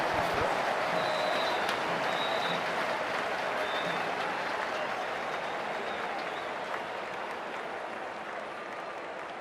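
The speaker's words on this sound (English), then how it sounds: "The crowd is electric right now." A dense stadium crowd at a T20 World Cup cricket match in Pallekele roars and applauds continuously, a broad steady wash of cheering that fades slightly toward the end.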